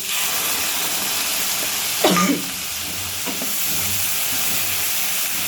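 A pan of boiled ingredients frying with mustard paste, a loud continuous sizzle and hiss with a brief scrape of stirring partway through.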